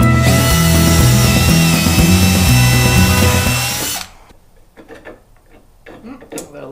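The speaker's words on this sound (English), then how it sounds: "So pilot holes to get us started." A power drill bores pilot holes into a wood board for a tractor coop ramp, a loud whining run with shifting pitch for about four seconds, then stopping into quieter handling clunks and brief bumps.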